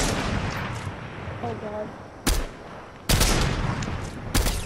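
Gunfire in Fortnite: three sharp, loud shots spaced about a second apart over steady game ambience, with a player's brief voice in between.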